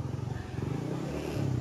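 A Yamaha Aerox 155 scooter engine runs after an ECU repair, with a steady low idle throb that rises slightly near the end, close by and alone.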